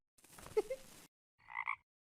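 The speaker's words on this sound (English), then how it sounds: "Two boys hiding in the bushes smiled at the toad." A cartoon toad gives a short croak, two close, bright, nasal pulses standing alone after a brief stretch of rustling, low-level activity.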